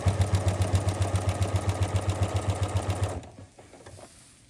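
A sewing machine stitches binding onto a fabric case with a fast, even mechanical chug of repeated needle strokes up close, then stops abruptly, leaving only faint handling noise.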